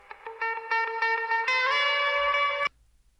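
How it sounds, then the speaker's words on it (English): Electric guitar run through reverb and overdrive plays a rising sequence of sustained, distorted notes that ring out, then stops abruptly, leaving near silence. "If you want to sound like me, it's not very hard. Reverb and overdrive."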